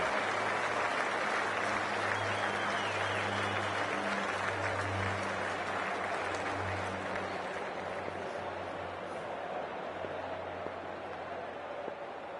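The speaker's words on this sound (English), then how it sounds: "already the crowd is up and about" Cricket stadium crowd applauds and cheers in a steady, dense roar of clapping that carries on throughout, heard from a distance with a faint low hum beneath.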